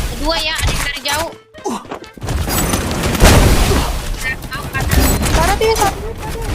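A grenade explosion and gunfire in a video game: a heavy thumping blast lands in the middle of rapid, overlapping shooting, while excited voices talk over the action throughout.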